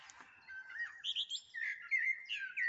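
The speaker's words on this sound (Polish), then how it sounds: "O, proszę, jak ładnie śpiewa nam kos." A blackbird sings a short, clear, fluting phrase outdoors, warbling notes rising and falling over near silence, fairly close and moderately loud.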